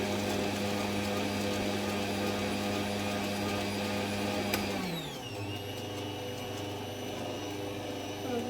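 Electric cake mixer whirring through lemon drizzle loaf batter, a steady loud motor hum with rich harmonic whine that drops in pitch midway as the speed changes, continuing alone without talk.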